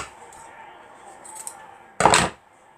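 Scissors cut a sewn fabric tube in half, one short crisp snipping crunch after a faint quiet stretch, close and clear.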